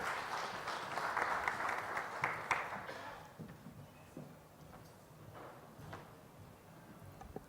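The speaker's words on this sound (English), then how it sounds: "Let's have a round of applause one more time for Parul." Summit audience applause for Parul at the IAMAI India Affiliate Summit opening session, a soft, distant burst of clapping that swells for about three seconds then thins into scattered claps and room noise.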